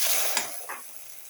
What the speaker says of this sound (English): Let it fry for 2 to 3 minutes.